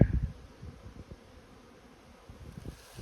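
Low, steady buzzing of bees drones on close by in a yard, with a soft wash of outdoor air and small fluctuations in intensity throughout.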